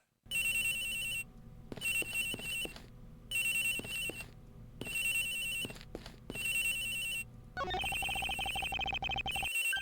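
A cell phone ringtone in the Ace Attorney video game, a bright electronic melody repeating in regular bursts with short gaps, then shifting to a denser continuous tone near the end, clear and close.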